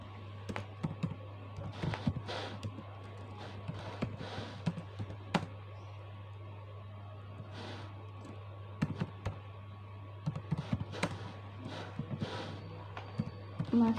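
Input data is typed on a computer keyboard: scattered, faint clicks and short bursts of keystrokes over a low steady hum, with irregular pauses between groups of taps.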